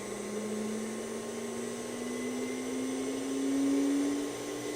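A hobbyist CNC spindle runs steadily at 12,000 RPM, giving a smooth, fairly quiet motor whine whose pitch rises slightly as it keeps spinning, with no voices.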